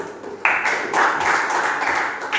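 A classroom group breaks into applause, a dense, steady wash of many hands clapping that starts abruptly and holds at a fairly loud level with no talking over it.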